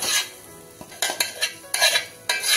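Masala being stirred into vada pav filling in a pan, with loud scraping strokes in irregular bursts and a faint sizzle beneath, no talking.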